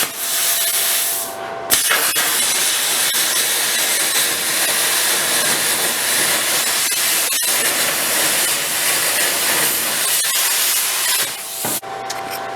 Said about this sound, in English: we're going to use the plasma and come in about 1 inch and just cut lines